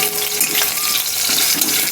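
Fish fries in mustard oil in a pan with a steady, bright sizzle. The crackling hiss holds at one level throughout, close by and with no speech over it.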